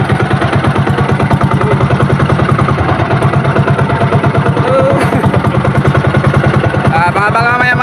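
A fishing boat's engine runs steadily at sea in the early evening, a loud, close, continuous rhythmic thumping with a brief higher whine partway through and some voice-like tones near the end.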